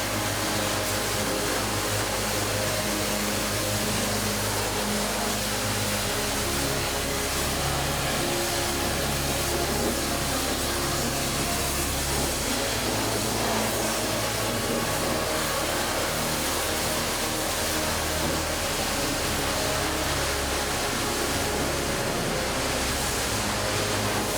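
A pressure washer rinses farm equipment. Its loud, unbroken roaring spray runs close by for the whole stretch, with a low motor drone under it and no talking.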